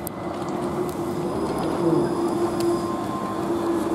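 A steady, loud rumble of a Southern Class 377 electric train running close by at Emsworth, with a low broadband roar and a faint tonal whine throughout.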